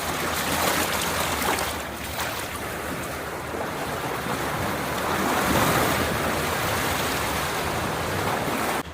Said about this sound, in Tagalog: Kaya malakas daw yung alon kasi gawa ng kagagaling lang ng bagyo.